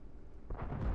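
Tank cannon fired in World of Tanks, a single deep booming shot that bursts in halfway through after quiet ambience, fairly distant and rumbling.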